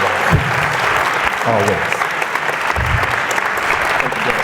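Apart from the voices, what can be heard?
audience applause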